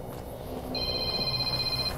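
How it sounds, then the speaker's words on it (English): An in-game phone call rings in Fallout: New Vegas, a steady electronic tone starting under a second in and holding to the end over low background hum. "Phone call. Nope, I'll pick that up later."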